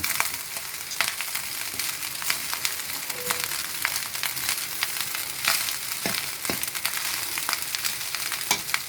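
Egg fried rice with finely cut ingredients, whole prawns and chilli sizzles steadily in a pan while a fork turns it, with scattered scraping clicks over the constant hiss.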